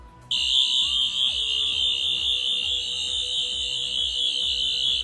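A loud, steady high-pitched electronic whine from a Rubbertoe Replicas Tenth Doctor's Series 4 toy sonic screwdriver, with a warbling tone underneath, sustained throughout.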